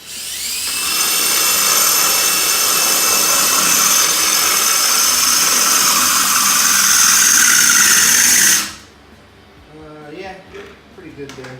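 A power drill cutting a circular hole in ceramic tile, a loud, steady, high-pitched grinding whine held close for about eight seconds before stopping abruptly, followed by quieter handling sounds.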